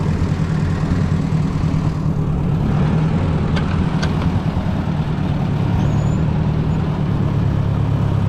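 A tractor engine labours while pulling a plow through garden soil, a steady low droning rumble holding constant for several seconds with no talk over it.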